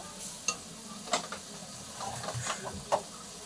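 Tomato chutney being stirred and mixed in a pan, with soft sizzling and scattered sharp scrapes and clinks of a spoon against the pan.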